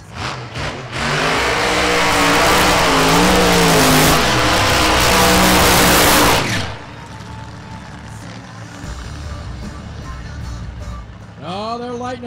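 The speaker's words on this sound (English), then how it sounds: "Todd Robertson, big time smoky burnout." A 2012-body Chevrolet Monte Carlo drag racing car does a smoky burnout at Lucas Oil Raceway during an NHRA Division 3 final round, a loud roaring rev for several seconds that cuts off abruptly, then a commentator talks over lighter engine noise.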